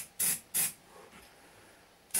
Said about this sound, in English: and then I sprayed the pipes.